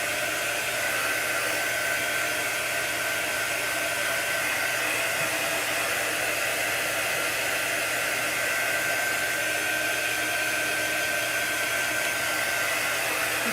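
A hair dryer blows steadily and loudly on a chalk transfer design, a constant airy roar with a thin whine holding through the whole stretch, no voices over it.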